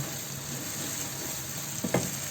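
Washed rita fish going into a pan of sizzling bhuna masala, a soft steady frying hiss with a brief louder crackle and clunk near the end.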